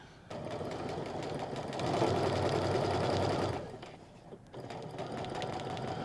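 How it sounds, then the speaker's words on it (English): A sewing machine back stitching the elastic casing on homemade pull-on pajama pants, running steadily and fairly close, with a louder, denser stretch in the middle before it eases off, pauses briefly and resumes. "So we'll back stitch at the beginning and the end of that."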